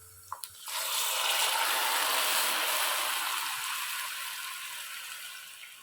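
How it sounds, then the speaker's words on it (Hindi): Jaggery water is poured into a pot of spices for sweet jaggery rice: after a couple of small clinks, a steady close gushing pour runs for several seconds and gradually eases, with no talking. "अब इसमें गुड़ वाला पानी ऐड करेंगे।"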